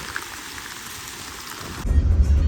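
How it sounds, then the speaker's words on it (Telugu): Steady rain hiss during a stormy day at Eden Beach in Pondicherry, shifting partway through to a louder, rumbling wash with strong low-end roar, likely wind and surf mixed with the downpour; no voices. "చూసారా వర్షం ఎట్లా పడుతుందో."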